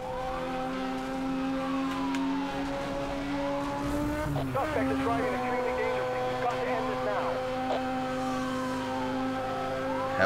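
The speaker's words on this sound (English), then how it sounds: "Seems like a bad place to have your car when you hear police sirens coming" Police car sirens wail in rising and falling sweeps over roaring race car engines and a brief tire squeal in the Need for Speed Hot Pursuit Remastered video game, steady and moderately loud throughout.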